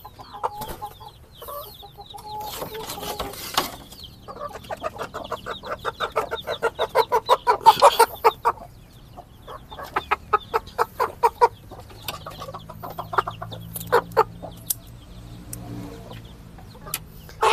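Chickens being let out of their cage while recovering: repeated clucks and short squawks at close range, irregular and busy, with some rustling and faint background hum between calls.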